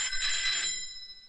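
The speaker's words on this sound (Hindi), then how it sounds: "फोन बज रहा है तेरी" A telephone bell rings in a short, bright burst that fades out, heard on its own with no talk, set in a Bollywood action scene.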